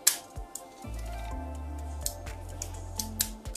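A tube being cut by hand with a cutting tool: a few sharp snips and clicks with a short grinding, squeezing stretch in between, close and fairly quiet, no voices.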